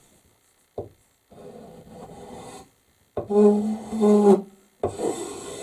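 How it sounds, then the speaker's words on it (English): A steel scraper rasps along a wooden axe handle, thinning and feathering it, in several close scraping strokes of varying length separated by short pauses, with a brief word spoken. "I'm going to use a scraper."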